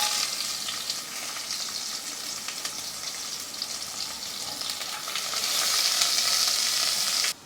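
Fenugreek and fennel seeds fry in hot oil for a beef curry, and onion joins them. A continuous close sizzle with stirring scrapes grows louder and denser toward the end.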